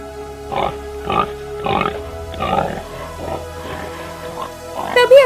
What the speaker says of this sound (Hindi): तभी अचानक राजकुमारी को एक जंगली सुअर दिखाई देता है।